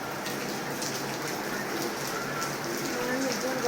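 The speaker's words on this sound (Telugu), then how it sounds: "వర్షం చాలా బాగా పడుతుందండి" Heavy rain pours steadily outdoors at a village home, a dense, even hiss of drops that stays loud and unbroken throughout.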